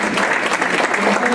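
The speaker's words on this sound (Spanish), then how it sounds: "para que pido de nuevo un fuerte aplauso." A burst of strong, dense applause from an audience at a book presentation, steady clapping sustained throughout with faint voices mixed in.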